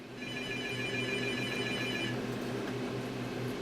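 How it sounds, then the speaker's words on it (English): A telephone rings with a repeating electronic trill, steady and fairly close, then the ringing stops partway through, leaving a faint hum. "Oh, wouldn't you know it? The phone's ringing."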